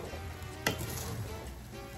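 Coconut rice with pigeon peas gets a stir in a pot over low-to-medium heat: a steady soft sizzle runs throughout, broken near the start by one brief scraping sweep of the spoon.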